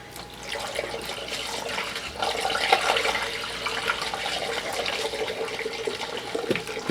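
Water rushes steadily as something is rinsed down, a loud, continuous close gush that holds for the whole stretch with no breaks and no talking.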